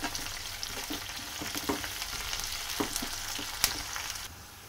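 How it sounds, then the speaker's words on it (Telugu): Onions and curry leaves frying in hot oil, a steady loud sizzle with crackles and occasional scraping stir strokes throughout, no voices. "ఆనియన్ ముక్కలు ఫ్రై అయిన తర్వాత కరివేపాకు వేసుకోవాలి"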